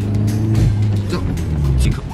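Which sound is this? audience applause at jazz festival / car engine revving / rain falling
car engine revving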